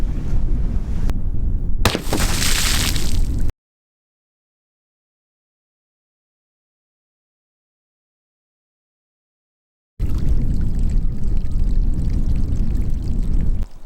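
A 6.5 Grendel rifle shot with a 130-grain Hornady CX bullet into water jugs: one sharp, loud report over steady outdoor noise, followed after a silent gap by more steady background.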